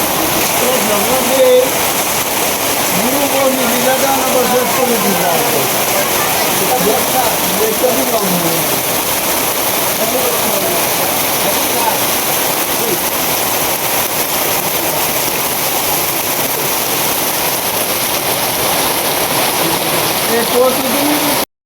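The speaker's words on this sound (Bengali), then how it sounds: "প্রায় 2 ঘন্টা ধরে বৃষ্টি শুরু হয়েছে, বৃষ্টি চলছে।" Heavy rain pours steadily and loudly for the whole stretch, a dense even hiss close around with no letup.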